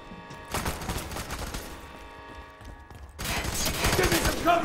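Gunfire in the video game F.E.A.R., dense bursts of rapid shots, loud and close, with a short lull between two volleys and voices heard alongside.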